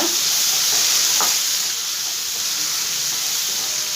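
Poha (flattened rice) with salt is stirred in a hot pan, producing a steady close sizzling hiss with faint scraping from the spoon throughout.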